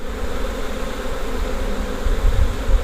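A dense, steady buzz of many honeybees during a hive inspection, close and continuous, with a low rumbling handling noise toward the end as bees are rolled in sugar.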